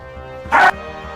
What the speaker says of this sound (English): Sorry, that was my dog. He got excited by it too.